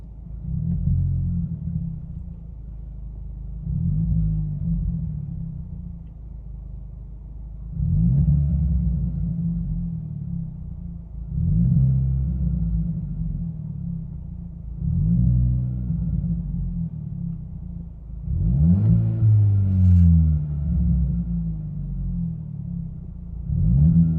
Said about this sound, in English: I'm going to rev in the same amount of revs as revving from the outside